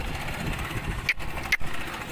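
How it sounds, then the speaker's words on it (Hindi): A motorcycle engine runs steadily while being ridden along a village road, a low continuous drone with a couple of brief dips, close and fairly loud. "तो इस वक्त मैं बाइक पे हूँ, अभी नज़र एक हाथ से ही है, बाइक भी चला रहा हूँ।"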